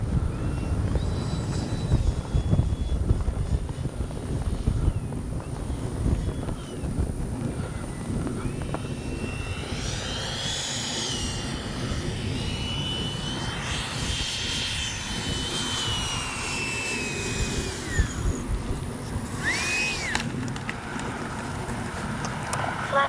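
A Freewing 90mm F-22 RC jet flies in windy conditions, its ducted-fan whine droning steadily and shifting in pitch as it passes overhead, with a few rising and falling sweeps.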